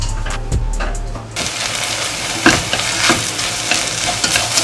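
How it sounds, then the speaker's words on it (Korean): Onions for curry sizzle and fry in a pan while being stirred steadily, with broadband frying hiss throughout and periodic scraping strokes of the utensil against the pan. A low hum sounds briefly at the start, and there is no talk. "이 양파를 진짜 계속 저어주는 게 어찌 보면 핵심입니다. 열심히 저어줄게요."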